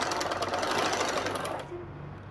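A close sewing machine runs fast as it stitches the waistband fold of a trouser, making a steady rapid chatter that slows and fades near the end.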